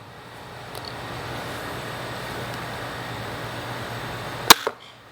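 A Ballista bowfishing crossbow fires an arrow: one sharp, loud snap with a brief follow-up rattle near the end, after several seconds of quiet outdoor background.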